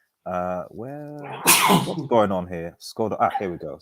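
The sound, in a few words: sneeze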